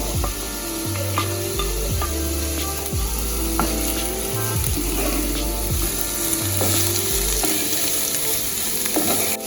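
Onions and peppers frying together in a pan for escovitch fish, a loud continuous sizzle with repeated scraping stirs and low clunks of the spoon, close by with no talking.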